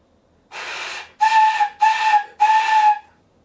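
Shinobue, a Japanese bamboo flute, played up close as four separate breaths: a first airy, breathy blow with no clear pitch, then three short held notes with a clear, bright tone and a soft rush of air.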